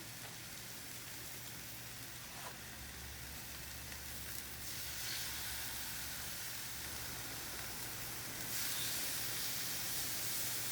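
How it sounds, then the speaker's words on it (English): Food sizzling in a hot pan, a steady broadband hiss with a faint low hum underneath that swells slightly louder near the end. "If you don't hear that sizzle, it means it's not hot"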